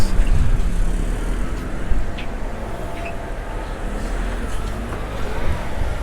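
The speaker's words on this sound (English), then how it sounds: "Now you see all these cars." Steady road traffic on a street in Mérida's historic centre in the Yucatán, Mexico, a continuous low rumble of passing cars heard at moderate distance with no voices over it.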